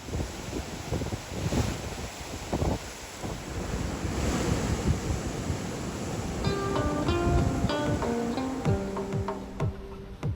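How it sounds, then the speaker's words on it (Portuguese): Sea breeze and waves wash steadily along the Venice waterfront, with loud wind buffeting the microphone and a faint chiming melody emerging toward the end. "como é simplesmente relaxante apenas caminhar por aqui e sentir a brisa do"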